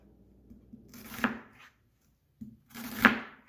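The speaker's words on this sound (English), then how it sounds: "I'm going to cut it in half." A knife slices through a small yellow onion on a cutting board in two separate strokes, each a close, crisp crunch ending in a sharp knock of the blade on the board, with a brief quiet gap between them.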